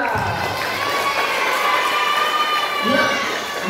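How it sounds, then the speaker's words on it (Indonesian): Children clapping and cheering at a school Ramadan camp, a dense, steady wash of applause and shouts with a voice rising above the crowd. "Tepuk tangan yang meriah."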